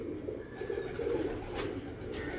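Domestic breeder pigeons, golden 'daku' birds, coo softly in a loft in Kasur, their low murmuring calls running steadily over a faint hiss with no talking.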